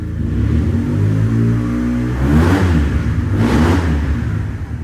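A 2011 Yamaha TMAX 500 scooter engine revs loud and close, rising and falling through a couple of throttle blips with a steady droning idle underneath.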